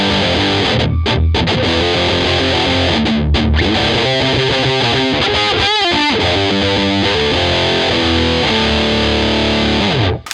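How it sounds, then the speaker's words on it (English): Heavy, saturated electric guitar with thick prime distortion plays a sustained riff, loud and continuous, then cuts off abruptly at the end. "So, prime distortion, we get this sort of sound."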